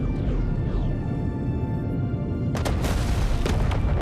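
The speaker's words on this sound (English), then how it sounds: "3 torpedoes away." Torpedoes fired in a Star Trek Voyager space game, heard as a sustained low rumble with descending whooshes early on, then several sharp booming blasts in quick succession near the end.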